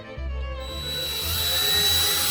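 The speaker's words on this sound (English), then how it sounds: "next you're going to take your drill" A cordless 20-volt drill used as a whisk spins up in brownie batter, a loud steady motor whine that starts after a brief pause and holds alone throughout.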